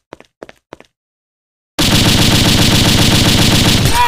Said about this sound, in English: I shoot enemies with my AK-47.